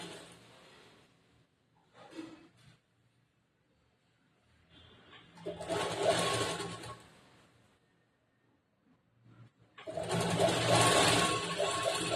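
A sewing machine stitches a kurta shoulder joint in close, buzzing runs: a brief burst early, then two longer sustained stretches of whirring, separated by quiet pauses.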